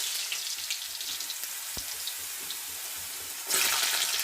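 Small cut potato pieces go into hot oil in a kadai and fry with a soft, continuous sizzle that swells into a brighter, louder hiss near the end.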